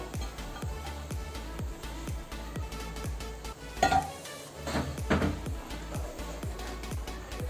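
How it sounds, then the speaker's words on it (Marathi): Flour is stirred into a cooking pot for village-style Maharashtrian masvadi, with a regular scraping rhythm of a utensil against the pot and a brief louder clatter midway, close and clear. "याच्यात ना पीठ सोडूया आणि व्यवस्थित असं हलवून घ्यायचं आपल्याला ते"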